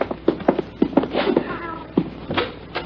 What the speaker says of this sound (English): Here's your cat.